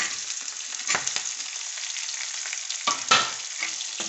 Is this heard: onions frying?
yes